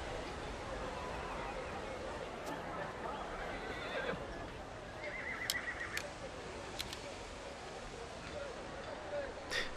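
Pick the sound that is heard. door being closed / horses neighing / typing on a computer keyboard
horses neighing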